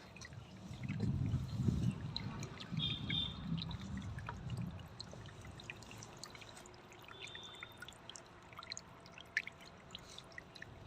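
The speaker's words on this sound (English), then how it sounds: "It's with the same soothing splashing sound." Water splashing and trickling in a stone birdbath fountain set in a zen garden, a steady soft outdoor patter with low gurgling that is fuller at first, then lighter continuous splashing with faint birdsong.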